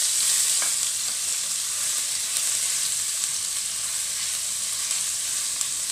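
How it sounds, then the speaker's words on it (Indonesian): Garlic frying in hot oil in a wok, a continuous bright sizzle with faint stirring scrapes, steady and close with no talking. "Minyak dah panas. Jadi kita masukkan bawang putih."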